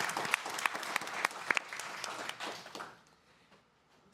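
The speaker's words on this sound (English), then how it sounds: "please give us a warm round of applause again for our" An audience gives a warm round of applause for guests at a live Hall of Fame event, brisk clapping with a few sharp individual claps standing out, then fading away into near silence.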